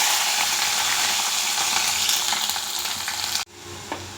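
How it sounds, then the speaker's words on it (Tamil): Cumin, mustard seeds, urad dal and asafoetida frying in hot oil make a loud, dense, close crackling sizzle that cuts off abruptly, leaving a quieter sizzle and a light clink. "ஜீரகம், பெருங்காயத்தூள் கொஞ்சம் நல்லா பொரியட்டும்."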